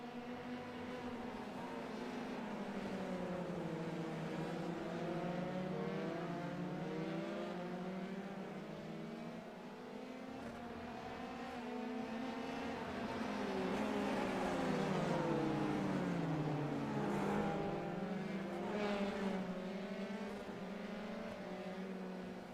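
Formula 3 race cars racing at the Interlagos circuit, several engines whining close together, pitch rising and falling through gear changes and corners, a steady loud pack drone.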